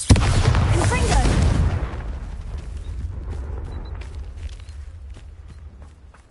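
Explosive spell blasts from a video game open with a loud, broad boom that decays over about two seconds into a long rumbling tail, with faint crackles continuing underneath.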